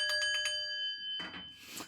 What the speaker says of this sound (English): Ring that fucking bell.